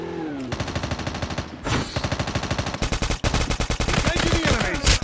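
Rapid automatic gunfire in the Call of Duty Mobile battle royale, loud, close bursts repeating almost nonstop with brief gaps, a dense rattling volley filling the whole stretch.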